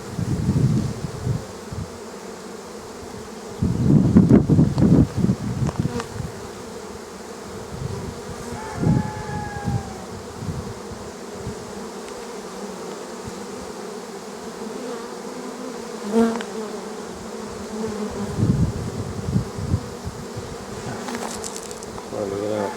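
Honey bees buzz steadily around open hives during an inspection outdoors, a dense droning hum that swells and fades, with occasional louder passes of single bees near the listener and some handling noise of the hive equipment.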